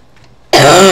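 A single sharp, loud cough bursts out abruptly after near silence and rings for about half a second.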